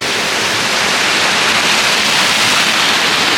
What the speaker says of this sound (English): we're in the top of the first waterfall, like we saw from down